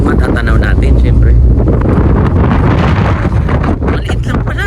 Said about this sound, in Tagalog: Lakas ang hangin, lakas ang hangin.